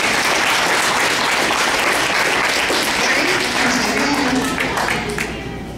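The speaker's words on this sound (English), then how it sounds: "Let's give my grandma another round of applause." A crowd at a 100th birthday celebration claps in loud, dense applause that holds steady for several seconds before tapering off.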